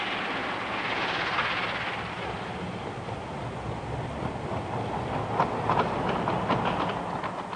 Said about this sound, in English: The little train clatters on